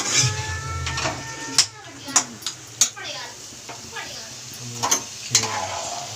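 Chicken frying in a pan with a steady sizzle, punctuated by sharp metallic clanks and scrapes of a utensil stirring against the pan, irregular and close, with occasional talk in the background.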